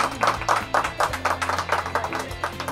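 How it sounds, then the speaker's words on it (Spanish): Rhythmic hand clapping for the chefs at a paella tasting, steady claps under lively background voices. "Un aplauso a los chefs, por favor, delicioso."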